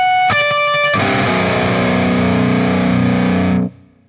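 A seven-string electric guitar through an Engl amplifier with a huge, heavily distorted tone: a short picked note, then a big sustained chord ringing loudly for about three seconds before being cut off, with no talking.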